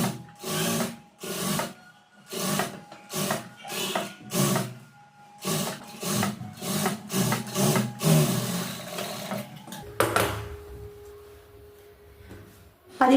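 A sewing machine stitches around a round blouse neckline in short, rhythmic runs with brief pauses between them, close and steady, then eases off near the end.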